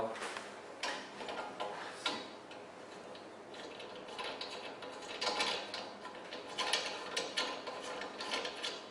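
Burner nozzle nut being screwed down onto a LuckyFlame SA-802 gas stove, giving close, rapid ratcheting clicks and small metallic ticks in irregular bursts throughout, with no talk.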